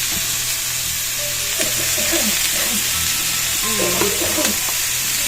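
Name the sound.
jackfruit and potatoes frying in oil with onion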